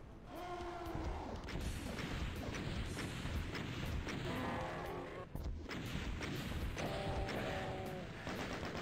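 Rocket launcher fire from the Doom game, E1M8, as a dense, continuous barrage of booming explosions and crashing impacts with brief tonal game sounds on top, loud throughout.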